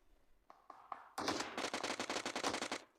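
Automatic gunfire in the mobile battle-royale game PUBG Mobile: a few separate shots, then a rapid sustained burst of about a dozen evenly spaced rounds, fairly quiet overall.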